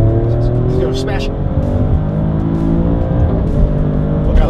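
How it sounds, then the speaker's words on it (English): Maserati Grecale Trofeo exhaust from the rear seat, a steady loud engine drone with rising pitch sweeps as the SUV accelerates, continuous throughout with talk over it. "I can hear the exhaust a lot more than I was sitting, compared to when I was sitting in the front"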